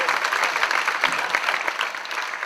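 Audience applause for the bass player of a big-band jazz orchestra performing aboard the cruise ship MSC Lirica: a short burst of dense, even clapping from the crowd.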